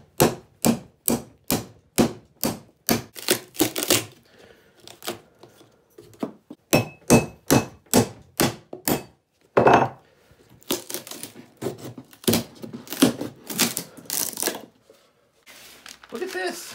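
Series of sharp, rhythmic cracking and banging blows as a wooden gift crate is pried open with a makeshift tool instead of a hammer, in quick regular bursts with pauses and a voice speaking in between.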